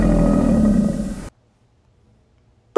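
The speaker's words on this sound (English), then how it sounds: "Bear." A single deep, loud bear roar lasts just over a second, then cuts off into near silence.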